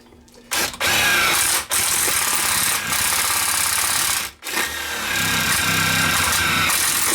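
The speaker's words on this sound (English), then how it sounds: "We'll take our drill and we'll drill through" Power drill boring through a solar panel leg, high whining bursts of the motor biting into metal, stopping and restarting with short pauses between runs, close and loud.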